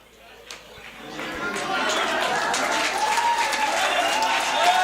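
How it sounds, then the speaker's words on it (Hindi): Audience applause at a live Hindi comedy performance, swelling from sparse claps into fuller clapping mixed with crowd murmur and talk. "इधर से तालियां आ रही हैं"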